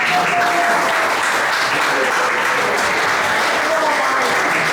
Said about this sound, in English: can I have some round of applause please?